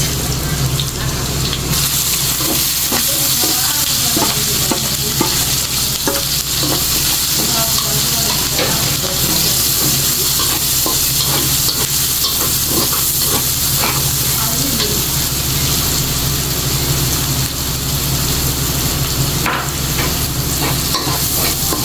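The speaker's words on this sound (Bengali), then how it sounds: "রসুনগুলো ভাজা হয়ে গিয়েছে এখন দিয়ে দিচ্ছি পেঁয়াজ আর কাঁচামরিচ" Onions and green chilies fry with garlic in a hot pan, a dense, steady close sizzle with occasional stirring scrapes running throughout.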